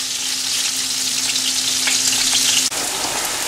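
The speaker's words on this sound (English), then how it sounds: "Our onions are getting brown color." Onions frying with crushed ginger and garlic for mutton biryani, giving a steady, close, bright sizzle under a faint hum, with a brief sharp knock near the end and no speech.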